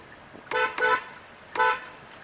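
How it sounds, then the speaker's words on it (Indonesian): Horn of a Hyundai Ioniq Electric Signature car, heard as three short, close, nasal honks: two quick beeps in succession, then a pause and a third, over an otherwise quiet background. "Sekarang kita coba untuk bunyi klaksonnya"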